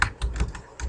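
Quick keystrokes on a computer keyboard while text annotations are entered in Steam DesignPro drafting software: a few close, light clicks in a short burst, with no talk.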